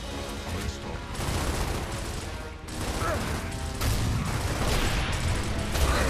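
Rapid gunfire and explosive bursts from a Gears of War firefight, with sniper rifle shots mixed into a dense, loud, continuous battle din, while a player's voice talks over part of it.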